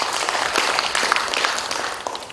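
Clapping from an audience at a Balinese government event, a brief burst of many hands at a steady, moderately loud level that eases slightly toward the end.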